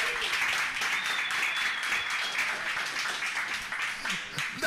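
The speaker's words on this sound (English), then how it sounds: "A warm round of applause to Rob Charles," A live audience gives a warm round of applause for a guest speaker at a talk event, dense steady clapping throughout, fairly close, with faint voices mixed in.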